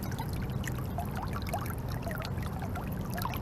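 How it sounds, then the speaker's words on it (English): Steady gush of water pouring out of a drainage pipe at a grading and drain installation site, a continuous splashing rush with no talk. "That is a lot of water coming out of there."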